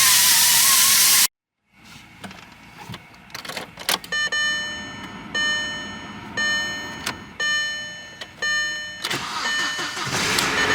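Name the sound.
Volkswagen turbo engine cranking and starting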